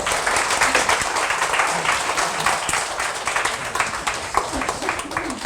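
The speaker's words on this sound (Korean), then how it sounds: "자 박수 한번 치고 보상 플랜 시작하겠습니다." Clapping from a seated audience at a sales presentation on a compensation plan rings out in a continuous, fairly close patter, with faint voices mixed into the applause.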